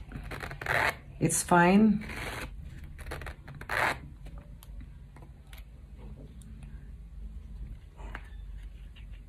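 A brief zipper pull on a small Chanel leather wallet rasps up and down close by, followed by a few soft clicks and handling sounds, with a person speaking briefly.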